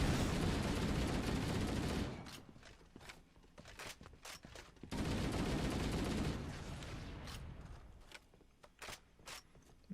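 Gunfire in Halo: Combat Evolved comes as two long, loud bursts of rapid automatic fire. Sparser single shots and impacts fill the gaps between them, and no one speaks.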